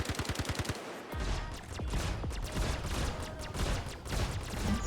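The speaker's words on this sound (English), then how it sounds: "you hear the shots" Rapid in-game gunfire in Star Citizen, a quick burst of evenly spaced shots followed by dense, sustained automatic fire with overlapping reports, loud and close throughout.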